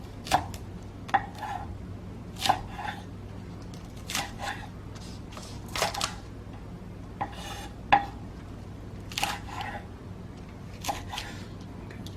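A knife chops ingredients into small pieces for a tteokbokki topping, with sharp, irregular taps on a cutting board. The strokes come in loose clusters over a low, steady kitchen hum.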